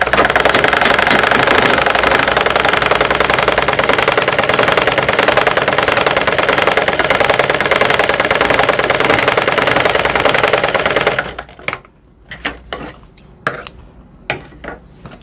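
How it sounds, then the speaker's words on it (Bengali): A sewing machine runs a continuous test stitch, a steady loud mechanical whirr and rattle that stops abruptly and gives way to a few scattered knocks and clicks. "এখন আমি সেলাই করে দেখি সেলাই হচ্ছে কি না"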